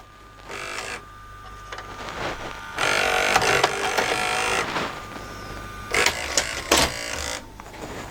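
An LG VCR's tape mechanism whirs and clunks in several motor-driven bursts with clicks, close and moderately loud, with no speech over it.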